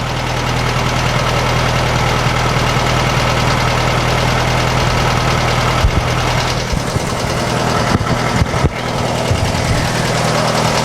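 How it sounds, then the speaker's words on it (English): The engine of a rotten old 1956 VW Beetle runs loud and close at a steady, rough idle with a faint knocking edge, a few brief dips and blips toward the end, no voices. "this engine is running a lot better than it was"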